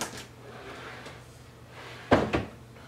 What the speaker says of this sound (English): So now the drawer fits a little bit better